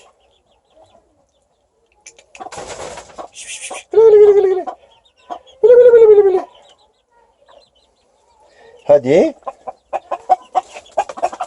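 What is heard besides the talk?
rooster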